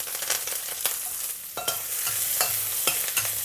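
Thin slices of young ginger and halved white spring onion stems fry in hot oil, a steady sizzle broken by regular scraping strokes of a spatula in the pan.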